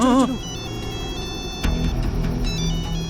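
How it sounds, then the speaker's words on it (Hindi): A phone ringtone chirps briefly at the start, then fades, leaving a steady hum with a soft thump and faint clicks. "फोन की आवाज सुनाई दे रही है।"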